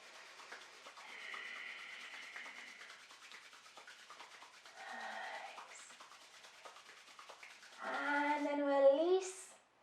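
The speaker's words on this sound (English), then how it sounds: "rub the palms together" Palms rubbing together give soft, dry swishing strokes in a quiet room, repeated in short bursts, while a calm voice speaks over parts of it.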